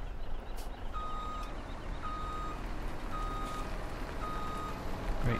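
A truck in the video game Farming Simulator 17 backs up with evenly spaced reversing beeps, about five steady tones over a low engine rumble.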